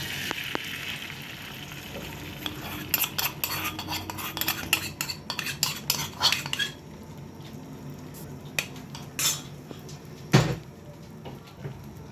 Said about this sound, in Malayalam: അപ്പം നമുക്കിനി മുട്ട പൊടിക്കാവേ.